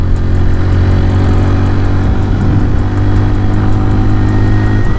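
A CFMOTO Papio XO-1 motorcycle engine drones steadily at high revs in a higher gear during a short test ride, with a loud, continuous mid-pitched hum and steady wind rush.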